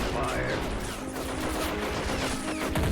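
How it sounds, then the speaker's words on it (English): Dense, continuous battle noise in Army Men of War with rapid machine gun fire and scattered gunshots, loud and steady throughout under a constant rumble, with brief speech-like sounds mixed in. "There goes the machine guns."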